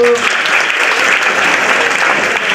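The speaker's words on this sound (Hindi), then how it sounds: "अपने लिए तालियां बजा दो" Children clap for themselves in a group, a dense continuous patter of many hands, loud and close, starting just as a voice fades and holding steady throughout.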